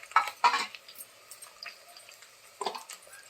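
Curry ingredients fry in a pan, with soft sizzling and a few scraping stir strokes, louder at the start and again near the end, then quieter crackle between.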